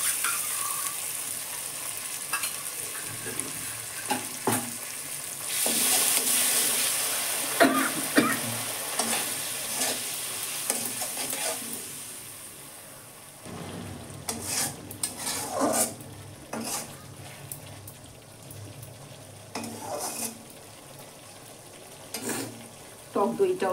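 Spices fry and are stirred in a pan for cabbage masoor dal, with a steady sizzle broken by scraping spoon strokes and clinks of metal on the pan, moderately close and without talk.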